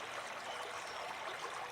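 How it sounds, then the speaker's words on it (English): Water drains from the top tank of a home fish-room aquarium system into a large drainage pipe, a steady soft trickling stream heard close and fairly quiet, with no talk. "that would start to drain partly some of the water from the top tank into"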